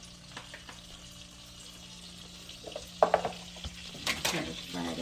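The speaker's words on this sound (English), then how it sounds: "So right now, I'm getting ready to put the onions in the skillet." Onions sautéing in a skillet, with a low steady sizzle and a few sharper clinks and scrapes of a utensil stirring midway, fairly close and without talk.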